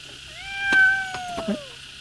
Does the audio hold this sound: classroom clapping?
no